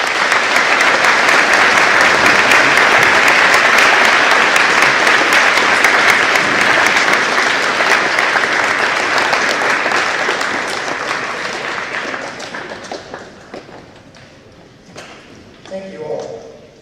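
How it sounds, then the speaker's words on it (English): A school audience at a Remembrance Day assembly breaks into loud, sustained applause that gradually fades away, with a voice speaking as the clapping dies down. "Let's give him a round of applause."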